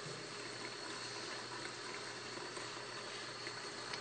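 Water runs steadily into a basin to soak knitted pieces for blocking, a continuous even rushing with no pauses.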